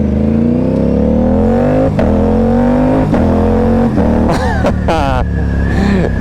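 A KTM RS457 motorcycle with an SC Project S1 exhaust and tuned map, riding in sunny Santa Monica, roars loud and close as it accelerates hard through several rising gear pulls, with sharp crackles and pops between shifts and a voice briefly over it.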